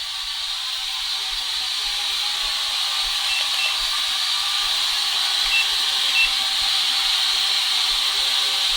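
Small F181 quadcopter drone with altitude hold hovering a short way off the ground, giving a steady, even high-pitched whirring buzz of its motors that holds constant throughout with no talk.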